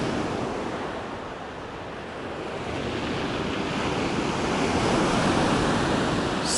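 Black Sea surf rolling onto the shore, a continuous loud roar of waves with wind buffeting the microphone, swelling slightly toward the end.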